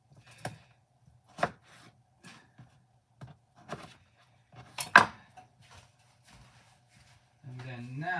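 A knife chops food on a cutting board in a kitchen, giving a handful of sharp, uneven thunks and taps, close and fairly loud, with a voice speaking near the end.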